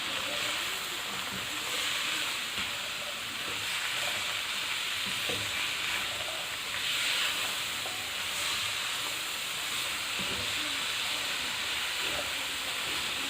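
Vegetable filling for chicken spring rolls, with chili, chili sauce and soy sauce, stir-fries on high heat in a continuous dense sizzle, with soft, intermittent scrapes and knocks of stirring throughout; near, steady, no talking.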